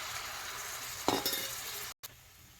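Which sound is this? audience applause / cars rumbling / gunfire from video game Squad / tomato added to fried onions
tomato added to fried onions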